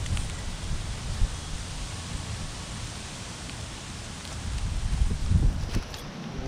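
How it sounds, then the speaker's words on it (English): Wind gusting over an outdoor campfire, a steady broadband rush with low rumbling buffets that swell louder toward the end. "the wind ain't helping us out"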